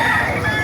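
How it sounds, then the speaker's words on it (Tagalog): Several chickens clucking and crowing close by at a market in Bocaue, Bulacan, a dense, continuous barnyard chorus with no gaps. "Marami pa dumarating na manok"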